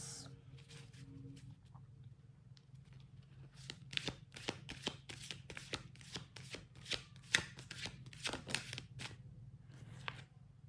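Tarot cards are shuffled in quick, crisp bursts, a steady run of riffling snaps that grows denser and louder midway and then trails off, over a low steady hum with no one talking.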